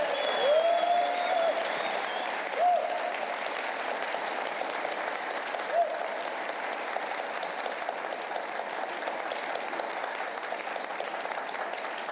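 Sustained applause from an audience for Mark Short, former White House chief of staff, steady and dense throughout with a faint tonal whine early on and no speech.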